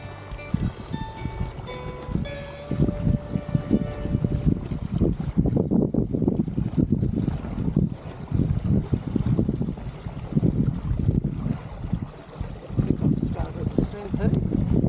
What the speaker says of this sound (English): It blows in 30-knot gusts, then goes down to 5.